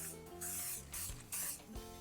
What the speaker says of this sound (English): spray an 8x8 pan with cooking spray